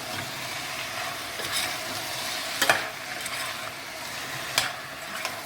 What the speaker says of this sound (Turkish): Birazcık kavuracağız.